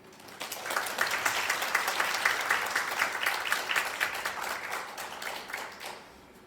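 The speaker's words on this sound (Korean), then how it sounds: "다시 한번 큰 박수 부탁드립니다" An audience at a youth safety event in Daejeon applauds steadily for about six seconds, a dense, even wash of many hands clapping at moderate loudness that fades out at the end.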